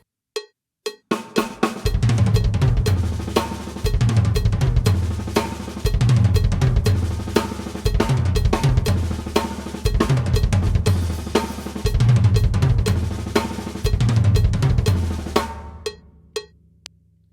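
A drum kit plays a fast, driving double kick triplet pattern with rapid repeated kick drum hits and cymbals, loud and continuous, then stops abruptly with a few scattered hits.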